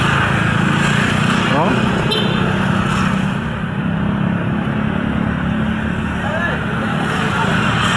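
A big twin-engine motorcycle idles nearby with a steady, loud rumbling drone that continues throughout over outdoor noise.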